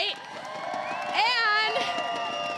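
A crowd cheers and whoops at a beach volleyball tournament in Manhattan Beach, with high voices and shouts swelling midway over a steady murmur of people, moderately distant.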